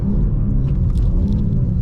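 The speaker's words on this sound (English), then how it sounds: "when you upshift coming around those corners" A BMW M2 G87 engine rumbles loud and close while cornering, a deep steady drone with a brief change around an upshift and no talk over it.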